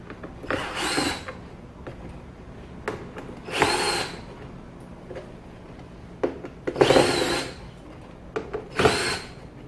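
A power drill runs in several short, close bursts while loosening screws on a car door panel during an ambient lighting install, with quiet pauses and small handling clicks between.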